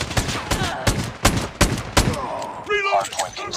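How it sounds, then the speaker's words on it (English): A sentry gun fires in Call of Duty hardpoint mode, a rapid series of sharp, loud, close gunshots in roughly even bursts for a few seconds, followed by a brief chirpy electronic cue as the firing stops. "Sentry gun deployed."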